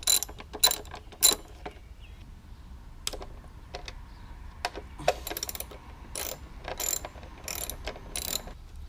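A ratchet works the 10 mm valve cover bolts on an 8th generation Honda Civic, giving bursts of quick metallic clicking spread across the clip with short pauses between runs, close and moderately loud.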